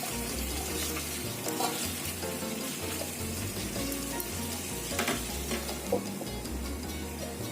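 Lemon chicken simmers on low heat in a pan, a soft continuous sizzle with intermittent stirring and clinking, plus a watery running sound in the background.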